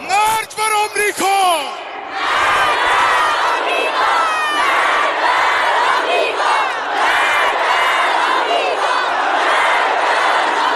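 A large crowd chants in unison, loud and continuous, with rhythmic shouted syllables and cheering over a dense roar of voices.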